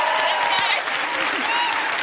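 Studio audience applause on a quiz show, loud and continuous clapping for about two seconds with a faint voice underneath.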